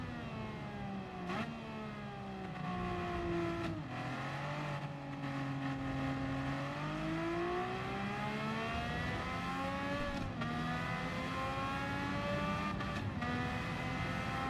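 Race car engine in Gran Turismo 7 revving hard through the gears, a continuous loud whine rising and dropping in pitch with brief dips at each shift, with no talk over it.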